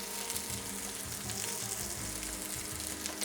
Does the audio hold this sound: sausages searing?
yes